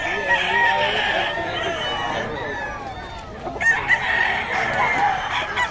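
Stag gamefowl roosters crow repeatedly at a busy Bocaue market, several birds calling over one another amid steady crowd noise and nearby chatter.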